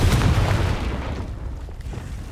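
Confringo blasting curse detonating in Hogwarts Legacy, a heavy boom right at the start that decays into a fading low rumble over about two seconds.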